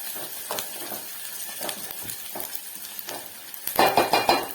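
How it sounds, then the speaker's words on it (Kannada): Tomato going into a hot frying pan with orange peel, a busy sizzle with stirring scrapes and a louder burst of frying near the end, close and without talk. "ಇವಾಗ ಟೊಮೊಟೊ ಹಾಕೋತಾ ಇದ್ದೀನಿ"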